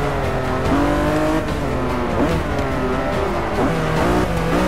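Drift car in the Forza 6 video game, its engine revving hard with rising and falling pitch while tyres squeal through slides, loud and continuous with no talk over it.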